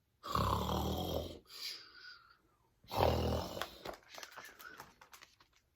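A person imitates a bear snoring for toddlers, with two long, loud, rumbling drawn-out snores separated by a pause, each trailing into breathy, wheezy tails.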